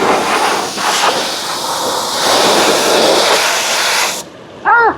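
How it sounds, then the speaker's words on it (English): A loud, steady hiss of water spraying to rinse a running car's engine bay lasts about four seconds, then cuts off abruptly, leaving a short chirping sound. "Now we start the rinsing."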